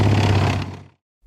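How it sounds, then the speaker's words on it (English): A military tank engine gives a short, loud, low rumbling burst that fades out quickly into silence after under a second. "tank."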